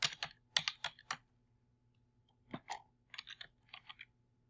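A name is typed into a computer search box on a keyboard: two quick bursts of crisp, close key taps with a quiet pause between them and no talking.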